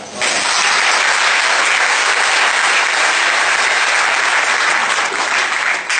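A church congregation applauds during Bishop Freddy Ntaku's sermon in 2017, with loud, dense, sustained clapping that fills the whole stretch without a break.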